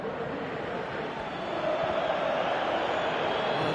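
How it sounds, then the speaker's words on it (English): Steady stadium crowd roar and cheering in a PS4 football video game, a continuous wash of noise that swells slightly midway, with no talk over it. "Crowd appreciates good football all round there"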